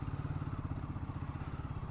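A Royal Enfield Himalayan motorcycle rides through city traffic, its engine giving a fairly faint, steady, rapid thumping pulse at low pitch throughout, with no talk.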